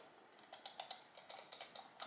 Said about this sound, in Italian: il click è abbastanza rumoroso